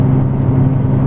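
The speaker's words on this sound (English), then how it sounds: "All the little chunks that fell off the trailer while we were unloading, I'm driving over" Vehicle rolling over small chunks of fallen log debris left from unloading a trailer, a steady close engine drone with a rough, rumbling texture underneath throughout.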